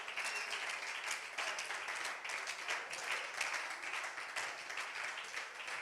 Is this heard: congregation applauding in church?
yes